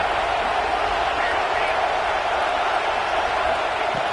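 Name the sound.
stadium crowd noise at football game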